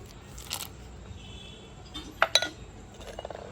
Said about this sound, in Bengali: কটা বাতাসা দিয়ে দিচ্ছি